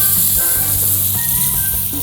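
A veal chop sizzles loudly and steadily in a hot pan, a dense, even hiss close up with no talking.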